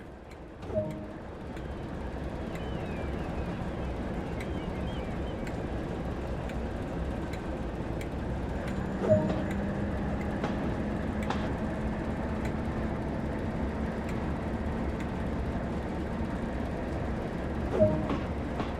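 A diesel locomotive on the West Somerset Railway in a train simulator game, rumbling low and steady as it pulls away, with a few faint clanks spaced through a long, even stretch.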